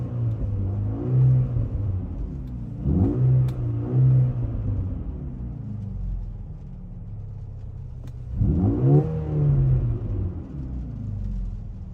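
A Mercedes-AMG A35 4MATIC engine revs in three distinct bursts, each rising then falling back to a steady idle rumble, fairly close and with no talking.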